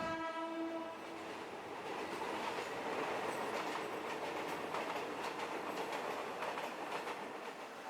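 A train at Hua Lamphong railway station in Bangkok opens with a long horn blast, then rumbles steadily as wagons roll past, with loud continuous clatter and faint wheel squeal.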